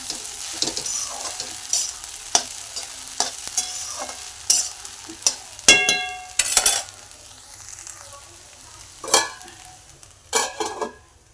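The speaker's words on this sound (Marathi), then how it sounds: "बारीक गॅसवरती वाफेवरती खिचडी" Sabudana khichdi cooks over a low gas flame, giving a quiet hiss punctuated by sharp metallic clinks and scrapes of a spoon against the pan, irregular and close.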